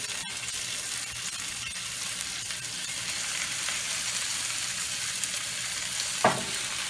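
Browned steaks go back into a hot pan and fry in a loud, continuous sizzle, close and steady, with one brief clatter near the end.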